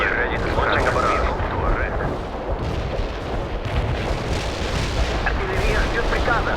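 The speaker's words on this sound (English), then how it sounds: "We can deploy and lay down a heavy barrage." An artillery barrage in the video game World in Conflict sounds as a dense, continuous rumble of booms and blasts. Radio-style voices speak over it now and then.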